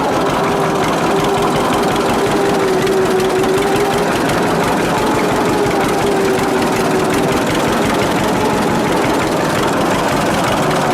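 A 1946 John Deere AR tractor engine runs steadily and loudly up close, with a low, even chugging drone and a faint higher whine from the gears that holds for the whole stretch, with no voices.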